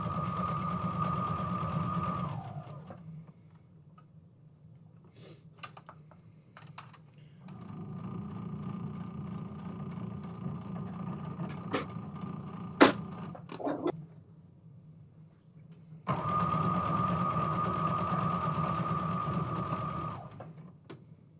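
A sewing machine stitches two pieces of fabric together in steady, whirring runs with a rapid mechanical needle rhythm, stopping and starting in three bursts with faint clicks and handling sounds between them.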